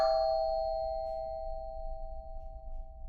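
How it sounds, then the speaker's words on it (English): A doorbell chimes once with a clear, sustained two-tone ring that slowly decays, heard alone against a low background hum. "The doorbell chimed again through the door."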